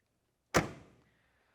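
The driver's door of a 1968 Chevrolet Chevelle swings shut with one solid, close thunk and a short, fading rattle, alone in otherwise quiet surroundings.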